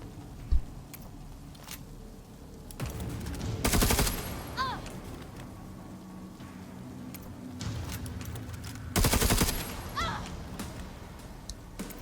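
Bursts of gunfire in the tabletop-style strategy game Necromunda: Underhive Wars, two loud sustained volleys a few seconds apart over quiet background ambience, with brief metallic clinks and thuds between them.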